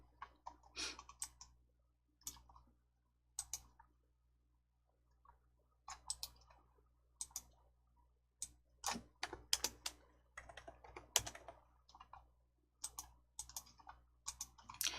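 Keys pressed on a computer keyboard in quiet surroundings, scattered single clicks and short bursts of typing, close and soft, with gaps of near silence between.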